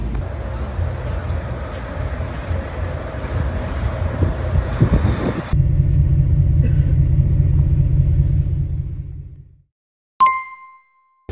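Steady low engine and road rumble inside a Greyhound overnight bus travelling from Newcastle to Byron Bay. The rumble shifts character partway through, fades out, and then a single bright chime rings near the end.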